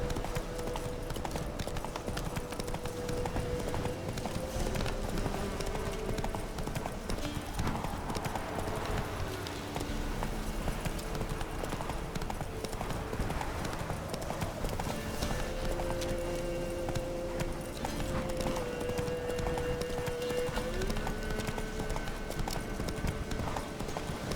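Roach, a horse in The Witcher 3 Wild Hunt on PC, gallops with steady, continuous clip-clop hoofbeats throughout, set against game music and ambience, with a brief whinny.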